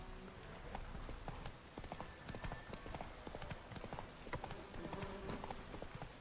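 Roach, the horse in The Witcher 3, trots along with a steady, fairly faint clip-clop of hooves, the beats quick and even over quiet in-game ambience.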